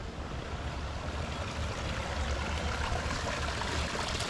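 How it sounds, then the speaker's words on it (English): Hot spring water flows steadily out of a small man-made stone grotto at Hot Springs National Park, a continuous broadband rushing and splashing close by, with no talk. "the water flowing out of this little man-made grotto back here"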